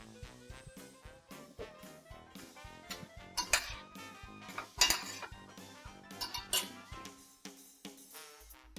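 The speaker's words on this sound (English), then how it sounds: "And give the mixture a stir." A spoon stirs a mushroom, pea and broccoli curry with yogurt in a pan. Quiet scrapes and light metallic clinks come at an irregular pace, close by, with no speech.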